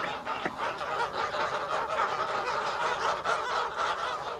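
Geese on a goose farm in the Landes, raised for foie gras, honking and cackling in a dense, continuous flock chorus at moderate volume.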